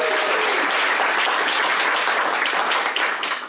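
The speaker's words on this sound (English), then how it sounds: "A round of applause," Audience at a tech conference lightning talk applauds the next speaker, a steady, loud, dense wash of clapping that holds for a few seconds and starts to taper at the end.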